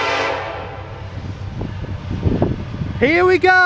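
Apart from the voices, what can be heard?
Norfolk Southern southbound intermodal freight train, horn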